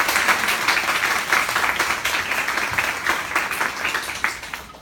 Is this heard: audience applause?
yes